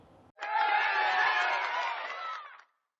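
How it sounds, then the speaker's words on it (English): A phone assistant plays a short burst of crowd cheering and whooping, loud and dense for about two seconds, then stops abruptly. "Okay, Google, applaud."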